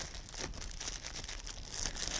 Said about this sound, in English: placing the wet paper towel and the stems down inside a plastic bag, pulling it up tautly